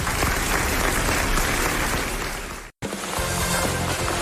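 Studio audience applauding on a French radio show, a dense even burst of clapping that breaks off abruptly for an instant, then resumes at the same level.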